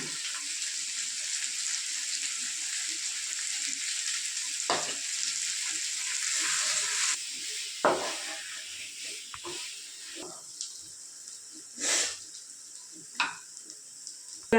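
Coriander leaves tipped into hot oil on a low flame, frying toward golden: a steady close sizzle throughout with occasional louder pops and spatters, no talking.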